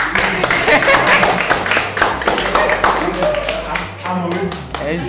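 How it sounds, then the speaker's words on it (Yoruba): A group clapping hands together in a Yoruba drama scene, steady loud rhythmic claps running throughout beneath a voice speaking over them. "Pàtẹ́wọ́ fún ayé"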